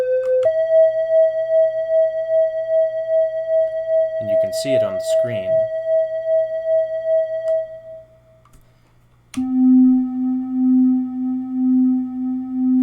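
Detuned oscillators on a modular synthesizer: a steady tone, then a lower tone that swells and fades in a regular, rhythmic wobble. A voice briefly talks over the steady tone.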